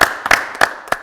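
Studio audience applause on a French-language television talk show, heard as four short separate bursts of clapping at fairly even intervals, close and moderately loud, with no talking.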